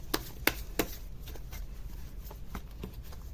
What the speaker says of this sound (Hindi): और एक बार मैं फिर से शफल करना चाहूंगी अच्छे से।